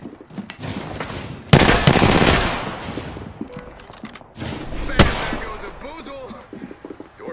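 Rapid bursts of automatic gunfire and single loud shots from Apex Legends, with two sharp blasts standing out among quieter rattling fire and game sound effects, while a voice speaks over the action.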